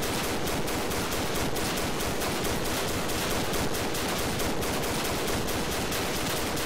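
Machine guns rattle nonstop in a World War One battle game, a dense, continuous barrage of rapid gunfire filling the whole stretch at steady loudness with no pauses.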